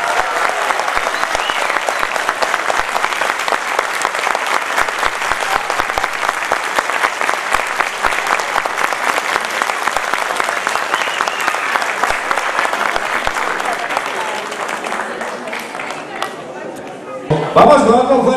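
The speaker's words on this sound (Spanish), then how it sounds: "pero un fuerte, fuerte, fuerte aplauso." Loud, sustained applause from a crowd after a Mexican independent folk ballet performance at a festival in Samacá, with steady dense clapping that thins and fades near the end before a brief burst.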